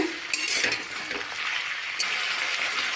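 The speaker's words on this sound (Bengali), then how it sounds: "লবণ আর হলুদ গুঁড়ো দিয়ে তেলের মধ্যে কিছুক্ষণ নাড়াচাড়া করে নেব।" Potatoes and beans are stirred in hot oil with salt and turmeric, a loud sizzle under scraping spoon strokes against the pan, close and continuous.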